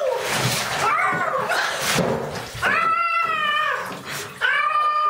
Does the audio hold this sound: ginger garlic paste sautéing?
no